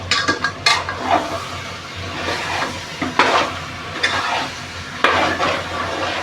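Potato pieces are stirred and sautéed in a pan of prawn masala gravy, with a spoon scraping and knocking against the pan over a steady low sizzle, close and moderately loud.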